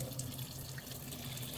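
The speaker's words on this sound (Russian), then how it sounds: "Давайте мы посмотрим напор воды." A kitchen tap in an apartment with plastic plumbing runs at full pressure, a steady, close, continuous rush of water splashing into the sink with no talking.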